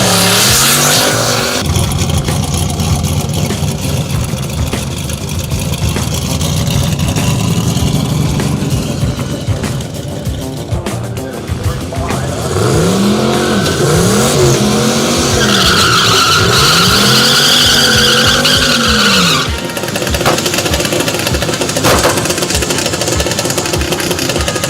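A stick-shift Buick Roadmaster skids hard with loud, sustained tire squeal over a roaring engine, the howl rising and falling in sweeping arcs as the car slides, close and dominant throughout.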